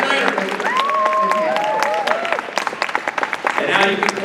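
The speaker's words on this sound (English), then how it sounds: "And now you can clap as Tim goes down the stairs" Applause from a fan convention crowd at Momento Con 2023 after a celebrity panel, scattered clapping and cheers under close talking and whoops.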